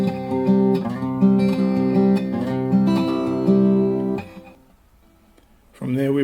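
Acoustic guitar playing the opening fade-in bars of a piece, fingerpicked notes and ringing chords for several seconds, then a short quiet gap before playing resumes, close with no talking.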